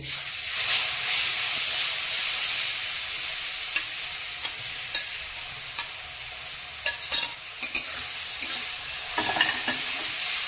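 Grated mango hits a fried mustard-seed tempering in hot oil, giving a sustained bright sizzle and hiss with scattered spatula scrapes and clinks near the end.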